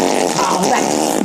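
A voice mimics a massive fart, producing one long, buzzing, sputtering raspberry that rumbles on close and loud for over a second.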